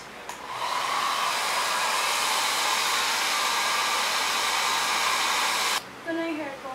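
A hair dryer blows steadily and loudly at close range with a constant airy roar, then cuts out briefly near the end and starts again.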